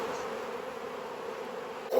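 Honey bees buzzing steadily around an open hive during an inspection, a dense continuous drone close by with no talking.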